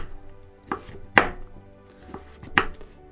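A knife chops through the hard, woody core of a chicory root on a cutting board, giving several sharp, uneven thwacks, two especially loud, with quiet pauses in between and no talking.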